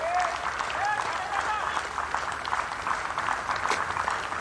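Applause breaks out from the Pakistan dressing room and crowd at a Galle Test cricket match against Sri Lanka for a batsman's century, a dense, steady clapping heard at a distance with a commentator talking over it.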